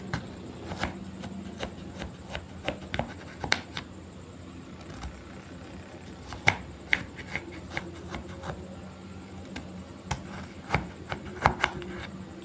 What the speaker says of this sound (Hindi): इस तरह से हम क्यूब्स की शक्ल में लहसुन अदरक के पीसेस कर लेंगे।